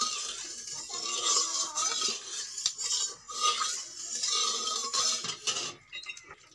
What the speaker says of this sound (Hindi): तो इसको हम तेल को चारों तरफ फैला लेंगे कढ़ाई के